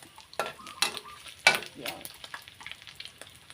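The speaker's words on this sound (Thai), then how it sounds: "เจียวเจียวเจียวเจียวหอมไป" Shallots and garlic fry in hot oil in a wok, a steady crackling sizzle broken by louder bursts as the spatula stirs and scrapes, close and continuous with no talking.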